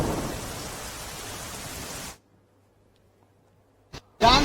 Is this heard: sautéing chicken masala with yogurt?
no